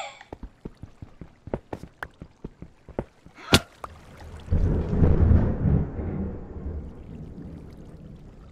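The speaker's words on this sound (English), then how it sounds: "that was some thunder there." Thunder rumbling during a storm near a swamp, a deep rolling roar that swells and lingers after a run of sharp, separate knocks and clicks.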